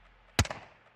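A single sharp, close gunshot from the Modern Warfare 2 campaign with a short echoing tail, set against near silence.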